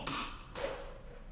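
A Nerf gun launches foam darts twice in quick succession, each a sharp hollow snap with a short airy tail, close and clear in a quiet room.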